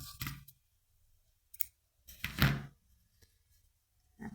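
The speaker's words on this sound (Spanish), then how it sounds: "Y ahora ya cortamos la hebra" Scissors snip through knitting yarn with a few sharp, close clicks in short bursts separated by quiet pauses.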